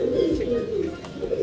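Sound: porter pigeon cooing

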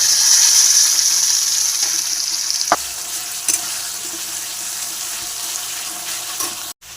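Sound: frying onions with ginger garlic paste in pan

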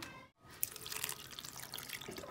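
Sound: pouring a cup of water into a tray

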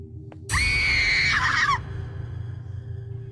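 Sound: scream in Araya Thai horror video game

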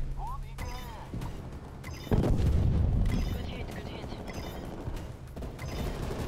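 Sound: artillery strike explosions in Call of Duty Cold War video game

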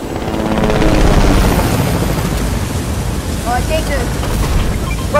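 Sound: helicopter in the video game Fortnite

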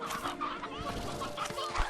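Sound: chickens clucking in Slime Rancher 2 video game

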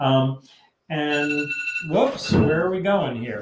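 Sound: mobile phone alarm ringing

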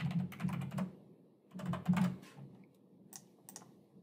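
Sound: typing a new password on a computer keyboard

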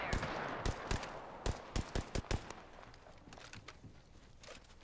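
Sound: gunfire in video game Apex Legends

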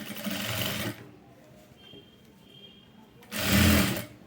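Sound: sewing machine top-stitching leaf model piping

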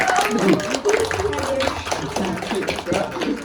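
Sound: applause

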